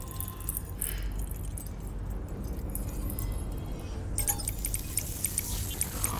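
Keys jangle in the game Death Stranding, a bright metallic rattle over a low background hum, growing busier and more prominent toward the end.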